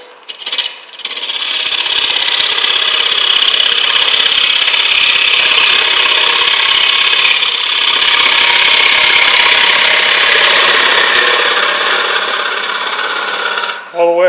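A gouge cuts across a green wood bowl spinning on a wood lathe at a turning demonstration, giving a loud, steady, continuous shearing hiss that runs unbroken for over ten seconds before stopping.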